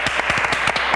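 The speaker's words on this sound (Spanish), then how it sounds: "La despedimos con un fuerte aplauso." Rhythmic applause from the studio audience of a live summer TV variety programme sends out a fast run of evenly spaced, sharp claps, loud and close.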